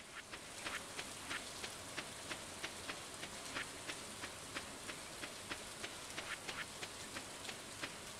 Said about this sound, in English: It's raining on the island.